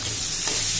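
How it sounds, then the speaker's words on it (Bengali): Pieces of papaya frying in oil in a wok, a steady close hiss of sizzling with a faint stir, no talking. "এই যে এবার পেঁপেগুলো ভেজে দিলাম"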